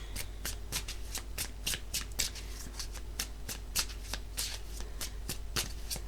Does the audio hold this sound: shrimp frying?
no